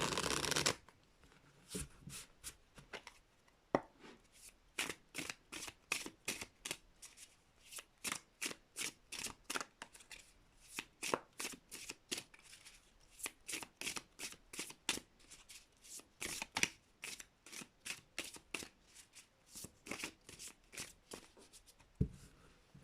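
A deck of tarot cards is shuffled and cut over and over, with crisp, rapid riffling bursts in a steady rhythm, close and clear with no talk.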